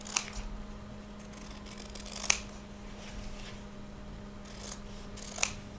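Scissors snip through a freezer paper and cardboard quilt template, a few sharp isolated cuts spaced seconds apart over a steady low hum, with no voices.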